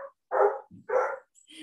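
An excited dog barks twice in close succession, loud and near, with a short whimper between the barks and faint higher sounds trailing off after.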